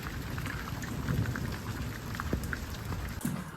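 Steady rain falls through a summer thunderstorm, with a continuous wash of drops and faint low rumbles of thunder underneath, fairly close and even throughout.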